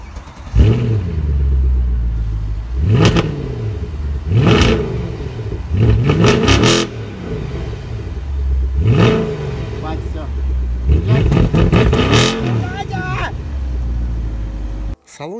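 A powerful Mercedes-Benz E63 AMG (W212) engine revs hard in repeated bursts, rising and falling with deep rumbling roars, close and loud throughout.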